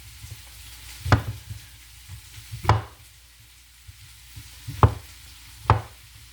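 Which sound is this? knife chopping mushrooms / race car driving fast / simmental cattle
knife chopping mushrooms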